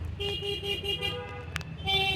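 A stuck motorcycle horn on an outing to Worli Seaface toots in a run of short, evenly repeated beeps over street noise, fairly faint and steady.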